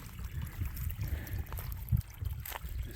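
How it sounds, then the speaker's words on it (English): Water rushing out of a small mountain stream in the Great Smoky Mountains, a steady low gurgling flow close by, continuous with no talk. "Quite the flow of water coming out of this little stream here."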